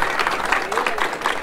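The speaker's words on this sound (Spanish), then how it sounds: "aplauso para ustedes, por favor, aplauso para ustedes" Audience applause at a Huata district community event in 2023, a short dense patter of clapping mixed with voices and crowd noise.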